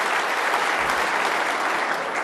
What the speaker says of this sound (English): He's certainly got the Crucible crowd cheering him on